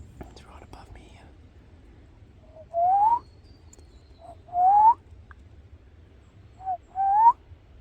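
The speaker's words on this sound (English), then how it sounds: "I just called in this wombo pigeon." Wompoo pigeon calling from directly overhead in the bush, giving three loud, separate whistled notes that each rise and swell. The calls stand out against quiet background hiss.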